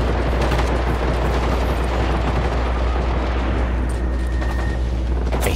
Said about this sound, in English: He's shooting at something else, though.